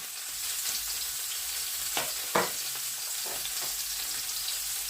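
Steady crackling sizzle of mushrooms frying in a pan, with a few louder pops and stirring scrapes partway through; no talking.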